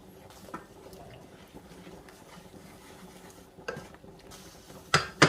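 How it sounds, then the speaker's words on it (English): Spoon scraping and stirring flour into a beef and mushroom stroganoff sauce in a pan, soft steady swishing with a few louder clinks of utensil on pan toward the end, quiet and close. "So just add your flour. Give it a really good mixing."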